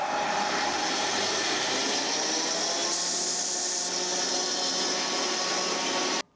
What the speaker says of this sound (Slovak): Keď chcem vrtať antikóru, tak už musím zarovnať čela toho vrtáku.